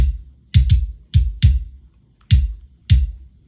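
Kick drum run through the Cleanup Kick EQ preset in Logic Pro X, sounding as a series of short punchy hits with clicky attacks in an uneven pattern, close and dry with nothing else playing.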